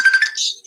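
A phone ringtone gives a brief electronic chirp of a few quick, bright repeated pulses, close and clear, lasting under a second.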